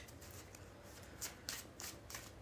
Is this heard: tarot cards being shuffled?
yes